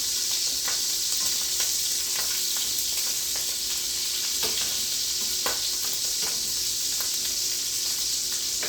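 Shrimp sizzles steadily in a hot pan for carbonara, a constant close hiss of frying dotted with small pops and crackles throughout, with no voices.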